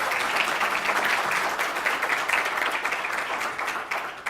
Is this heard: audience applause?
yes